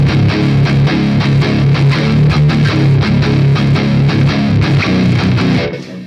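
Distorted electric guitar chugs power chords in a loud, dense, steady rhythm, alone and close, then cuts off at the end.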